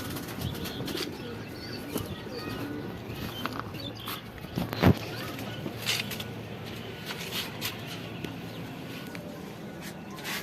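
Pigeons in an indoor loft, soft cooing under a low ambient murmur with occasional sharp wing flaps, one louder flurry midway, fairly close.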